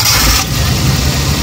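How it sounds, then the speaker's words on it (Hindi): A used Suzuki pickup engine catches and settles into a steady idle at a vehicle market in Pakistan, a loud, close mechanical rumble that smooths out after the first moment and runs on evenly, with no voices. "अभी स्टार्ट करेंगे तो इससे इंशाल्लाह आपको साउंड भी पता चल जाएगा कि इंजन की कंडीशन कैसी है"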